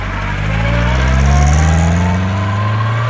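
A 1971 MG Midget MKIII with a 4-speed gearbox drives close up, its engine note loud and rising steadily as it pulls through a gear change, a rough, throaty drone throughout.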